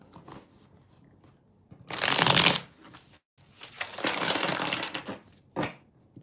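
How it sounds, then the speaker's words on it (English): A deck of tarot cards is shuffled up close in two main rustling bursts, followed by a brief third riffle, with quiet pauses between them. "just shuffle this"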